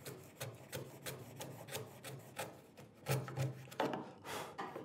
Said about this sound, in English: So you just manipulate the chisel.